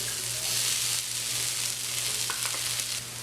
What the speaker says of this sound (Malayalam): ഇനി നമുക്ക് ഇതിനകത്തേക്ക് ഗ്രേറ്റ് ചെയ്ത് വെച്ചിരിക്കുന്ന പനീർ ചേർത്ത് കൊടുക്കാം